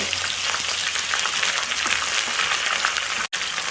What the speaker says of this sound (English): Add 1 medium finely chopped onion.